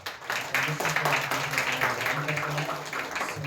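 A church congregation applauding its worship team, a continuous crowd of clapping with a low sustained tone and faint voices beneath, steady and fairly close throughout.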